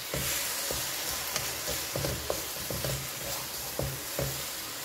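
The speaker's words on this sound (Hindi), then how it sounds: "पानी डालने के बाद इसे मैं अच्छी तरह से मिक्स करूंगी" Fig halwa sizzles in a pan after water is added, with a spoon stirring and scraping in a regular rhythm of close, distinct strokes over a constant frying hiss.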